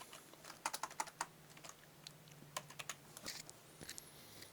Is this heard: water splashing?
no